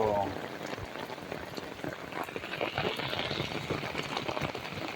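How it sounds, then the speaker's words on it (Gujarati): Heavy downpour pours down in a dense, even hiss of rain striking surfaces, continuous and fairly faint throughout the short stretch. "જોઈ શકો છો તમે ધડમાર વરસાદ"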